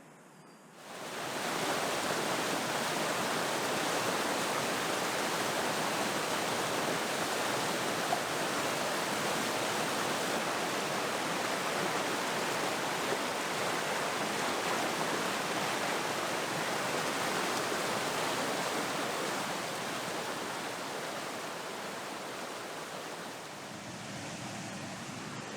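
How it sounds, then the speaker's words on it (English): Waterfall on a river in the Dart Valley woodland: a loud, steady broadband rush of falling water, close and continuous, easing slightly near the end. "made it to this lovely waterfall"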